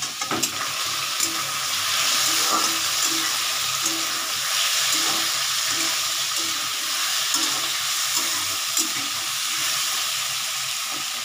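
Soybean chunks and potato fry with chilli powder in a curry pan while being stirred gently, making a steady, close, full sizzle with soft stirring scrapes and no voices.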